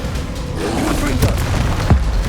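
The Confringo blasting spell from the Hogwarts Legacy video game goes off as two short, punchy booms about half a second apart, mixed with game sound and a voice.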